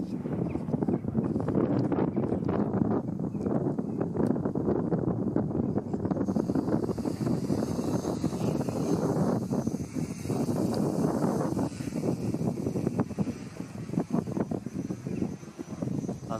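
Strong wind buffets the microphone in a continuous, heavy roar with gusty rumbling throughout, outdoors during a flight test of an F330-frame drone.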